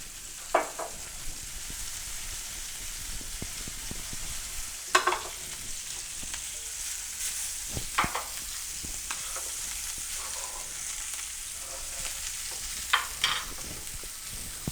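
Pork fillet sears in olive oil and butter with leek, garlic and rosemary, a constant bright sizzle punctuated by scattered clicks and pops as pieces are turned in the pan.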